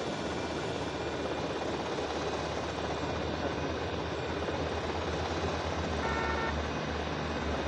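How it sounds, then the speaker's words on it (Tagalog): A helicopter in GTA Vice City drones steadily with a continuous loud rotor and engine roar, unbroken throughout with no talk. "Dadalhin ko yung helicopter na ito."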